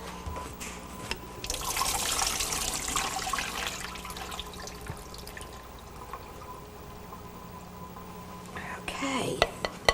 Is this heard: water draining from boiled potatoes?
yes